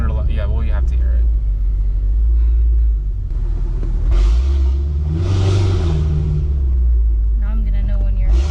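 Deep, steady exhaust rumble from a Mercedes AMG car fitted with a loud exhaust, running close by for the whole stretch and swelling a little midway, with people talking over it.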